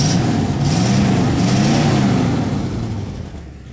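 A Dodge Shorty van engine runs close by with a loud, steady mid-range drone and slight wavering in pitch, easing down slightly toward the end.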